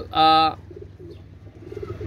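A pair of red-necked pigeons, one short, loud, close coo followed by quiet low background rustle.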